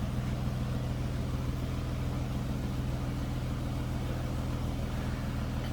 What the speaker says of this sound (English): Smooth running car, no doubt about that.